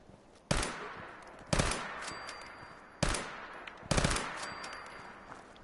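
A modded weapon in Fallout 4 fires four loud, sharp single gunshots at roughly one-second intervals, each followed by a short ringing decay, with no talk between shots.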